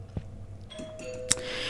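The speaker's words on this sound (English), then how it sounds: "So if the doorbell isn't too loud, I'll just leave it in there." A home doorbell rings as a friend arrives, a thin sustained electronic tone heard indoors at moderate level with a sharp click partway through, fairly faint against room noise.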